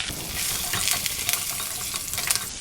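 Curry leaves, dried and green chillies and ginger crackle in hot oil in a pan, a continuous close sizzle with brief bright spits and stirring noises.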